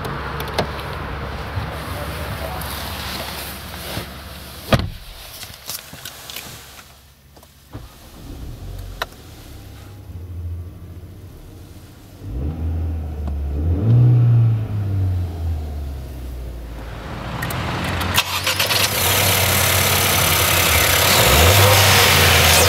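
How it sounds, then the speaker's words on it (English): A Ford Mondeo with a 1.5 EcoBoost engine is started and left running close by, the engine catching and then idling with a few revs rising toward the end. No voices are heard. "Alright, so let's start the engine."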